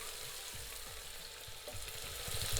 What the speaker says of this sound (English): the oil is already hot, so I'm going to put the onions and give the onions a stir